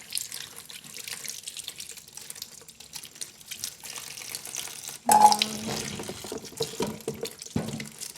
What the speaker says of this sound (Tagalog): Hugasan para diretso natin kaagad sa kaldero.